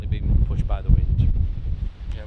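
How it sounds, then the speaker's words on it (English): Strong storm wind buffets the microphone in heavy low rumbling gusts, with people talking briefly over the roar. "It's very windy. Extreme. Like I said, it's in the middle of a storm."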